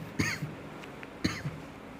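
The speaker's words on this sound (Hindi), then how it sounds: "तो आज लगा कि खांसी आने लगी है ना।" Two sharp coughs from a man teaching a class, each a brief throaty burst with a small follow-up, spaced about a second apart in a quiet room.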